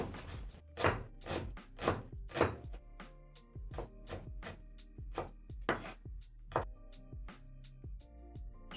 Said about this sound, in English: I'm going to chop one small onion into tiny pieces